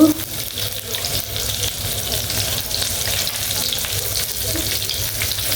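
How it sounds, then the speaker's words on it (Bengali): Spice paste for a chepa shutki (fermented dried fish) curry with eggplant and potato fries in a pan, giving a loud, steady sizzling hiss with faint stirring scrapes throughout and no talking. "আমি এখন রান্নাতে চলে যাব। আমি পেস্ট দিয়ে দিব,"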